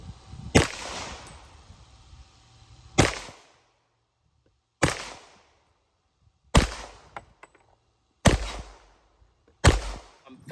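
Six loud, sharp gunshots from a .50 GI 1911 pistol fired at bowling pins crack out at uneven intervals, each one ringing briefly before quiet returns.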